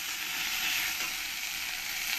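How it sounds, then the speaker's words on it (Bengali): Ginger-garlic paste frying with onions in a pan for a katla fish head and banana flower dish, giving a continuous soft hiss of sizzling, close and fairly quiet, with no voices. "দিয়ে ভালো করে আমি একসঙ্গে পেঁয়াজের সঙ্গে একটু কষিয়ে নেব।"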